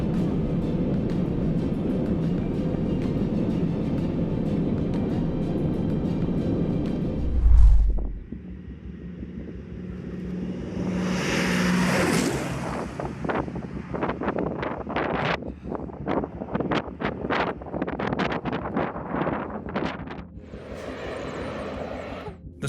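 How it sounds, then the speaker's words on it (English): An Airbus A380 hovering above a runway before going around in shifting wind, a loud roaring engine drone with gusting microphone wind, then a cut to softer rumbling engine noise and choppy wind buffeting. "The stunning A380 arriving on June 29, 2023, we see her hovering above the runway before making the go-around due to wind shift"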